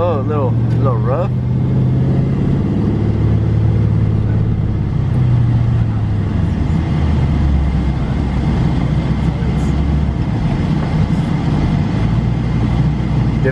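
A learner driver works the clutch and gas in his new car, and the engine rumbles and rises in pitch with uneven revving under steady conversation.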